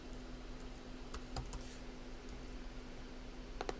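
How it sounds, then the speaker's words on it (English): Typing on a computer keyboard while coding an expression evaluator, with steady soft clicks and a few sharper bursts of keystrokes, close and quiet with no voices. "I'm really bad at typing today"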